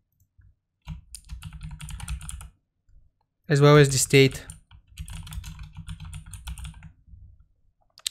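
Someone typing an address on a computer keyboard in bursts of quick, close key clicks, pausing while a person speaks briefly in the middle.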